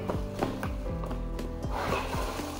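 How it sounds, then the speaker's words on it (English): Unboxing a Meyer cast iron skillet, a run of rubbing and scraping cardboard noises with quick rhythmic swishes, close, no talking. "let's quickly unbox this uh, cast iron skillet"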